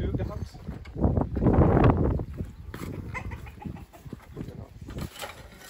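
Free-range chickens roam a rural property's open yard in Russia, clucking and calling at close range through wind noise, while a person speaks over them.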